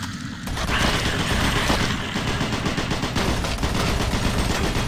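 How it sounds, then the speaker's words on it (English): Sustained rapid gunfire in Doom 3 BFG Edition, a loud continuous burst of automatic shots with mechanical clatter that runs unbroken for several seconds after a brief lead-in. "what is he shooting?"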